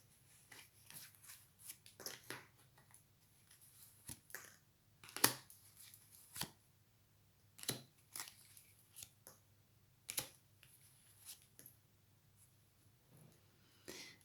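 Playing cards being handled and shuffled during a tarot-style reading, heard as quiet, scattered rustles and crisp flicks of card stock, with a few sharper snaps, alone without talk.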